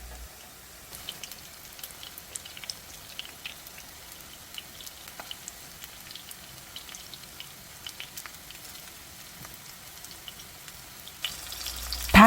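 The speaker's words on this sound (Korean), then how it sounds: "두부를 올리고 한쪽 면이 노릇해지면 방향을 돌려가면서 튀기듯 구워주면 돼요." Tofu pan-fries in a generous layer of cooking oil over medium heat, a soft continuous sizzle with scattered pops and crackles, ending in a brief louder burst.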